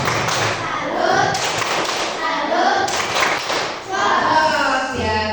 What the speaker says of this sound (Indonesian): Oh iya, satu lagi kita kasih tepuk salut ya.